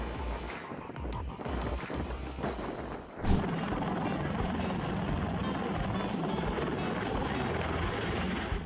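A helicopter comes down onto yoga mats laid out as a makeshift helipad, its rotor roar rising sharply partway through and then holding loud and steady amid wind buffeting.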